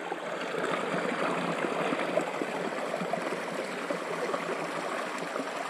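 Steady rushing water of a stream flowing continuously beside a fish pond, close by and fairly loud, with no voices.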